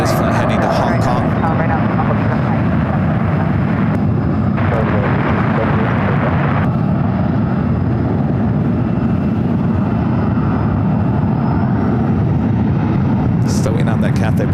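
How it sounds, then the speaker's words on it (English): United Boeing 777-300ER jet heading for the 28 runways at San Francisco airport on a flight to Hong Kong, a loud, continuous, rumbling engine roar close by, with someone talking over it throughout. "That United 777-300ER heading to the 28s, crossing over the ones, and this flight heading to Hong Kong."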